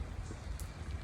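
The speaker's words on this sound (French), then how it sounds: "arrivé à Irún sous la pluie, comme vous pouvez entendre" Rain falling on a street in Irún, Spain, making a dense, even hiss that fills the brief moment with no voices.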